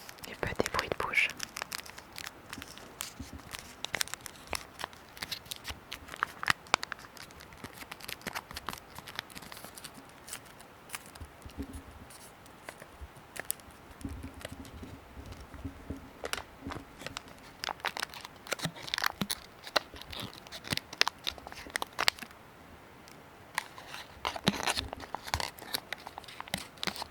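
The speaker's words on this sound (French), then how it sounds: "des bruits de papier" Soft paper crinkles and rustles close up as an advent calendar is opened, quiet and intermittent, with gentle whispered speech in between.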